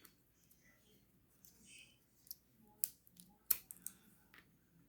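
Tim Holtz scissors snip buttons off close to the fabric flanks, giving a few sharp, brief clicks and snips around the middle and end, fairly close but quiet over a faint room background.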